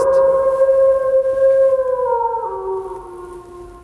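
Wolf howl sound effect in a live Werewolf game, a long sustained howl that holds a steady pitch and then drops lower, clear and prominent over a faint background with no talk.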